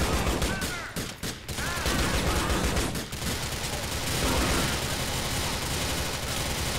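Rapid sustained gunfire in Grand Theft Auto IV (The Lost and Damned), a dense, loud barrage of overlapping shots with a few brief gaps, continuing for several seconds.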